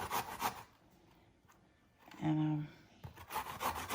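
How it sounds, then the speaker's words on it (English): Fresh ginger with its skin scraped off, the last piece being grated by hand: a short burst of scraping rasps near the middle, set between soft, faint sounds and a brief word of speech at the start. "this is the last piece of ginger that I need to grate"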